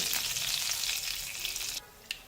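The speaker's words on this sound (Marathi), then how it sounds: "त्यानंतर कढीपत्ता पण लगेच टाकून घ्यायचा आहे।" Chana dal and curry leaves hit hot oil with a steady, close crackling sizzle that fades slightly toward the end, broken by one sharp pop near the finish. The oil also holds fenugreek seeds, for South Indian-style lemon rice.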